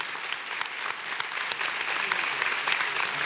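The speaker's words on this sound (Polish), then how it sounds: "Patrzcie, jakie gromkie brawa na zakończenie, moi drodzy." An audience at a local talent show in Mysłowice applauds warmly, a steady burst of clapping that swells slightly toward the end, with faint voices underneath.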